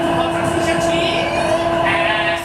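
Interior of a Shanghai Metro Line 1 subway train in motion, a loud steady rumble and whine with tonal hum, voices faintly audible underneath.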